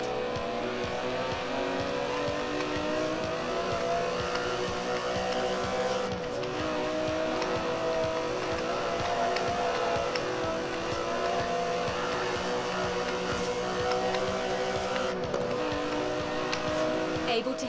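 A sports car engine in the Forza Horizon 4 video game drones and revs continuously at a steady level, with someone narrating over it.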